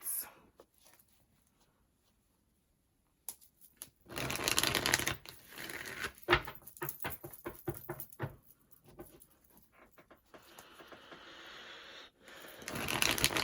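Modern Witch tarot cards being shuffled in repeated bursts of riffling and flicking, a near, dry papery patter that starts and stops, with a quiet pause early on and louder shuffles toward the end.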